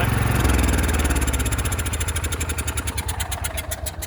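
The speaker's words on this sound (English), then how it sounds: "Started the tractor" A small tractor engine, just started with the choke pushed in, idles loudly and close by, its rapid, even chugging pulsing throughout with a slight settling after the first half second.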